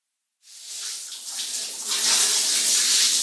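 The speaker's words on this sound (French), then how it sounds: "dépêche-toi de prendre ta douche" Water runs steadily in a bathroom shower, starting abruptly after a brief silence and holding as a loud, broad hiss that swells slightly toward the end.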